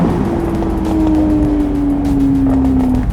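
A new C8 Corvette launches hard and pulls with a loud, steady engine roar, its pitch sliding gradually as it accelerates away from a standing start near other exotic cars; nobody speaks.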